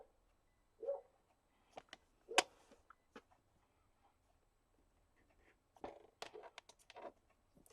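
A few short dog barks ring out in a quiet room, separated by pauses, with light rustling and handling noises between them.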